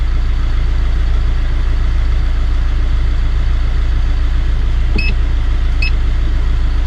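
A Kia Pride car engine idles steadily during a diagnostic scan, a loud constant low hum with a couple of faint electronic beeps near the end.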